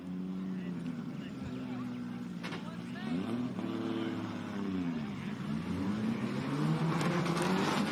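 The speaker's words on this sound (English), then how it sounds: "I can hear Warick's car started." Race car engine idling and revving at Calder Park Thunderdome speedway, a fairly distant rumbling drone that rises and falls in pitch, with people talking nearby.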